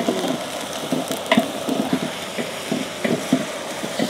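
Ginger and garlic paste sizzles in a pan for a South Indian village-style mutton curry, a steady close crackle broken by scraping stirs and small pops.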